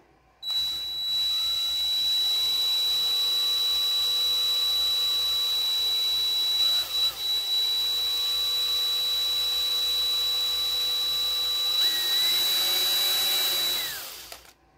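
An electric drill whines steadily as it bores a hole, its motor pitch dipping briefly midway and climbing near the end before it stops; no one talks.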